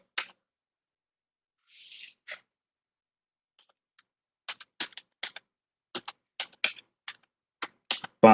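Computer keyboard keys clicked in short scattered bursts, a few isolated taps early and then a steadier run of crisp keystrokes, close and clean with no talking.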